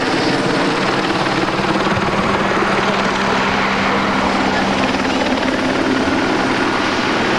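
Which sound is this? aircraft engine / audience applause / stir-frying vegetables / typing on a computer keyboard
aircraft engine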